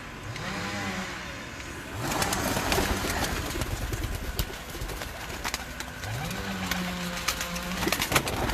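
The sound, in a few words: pigeons cooing on a rooftop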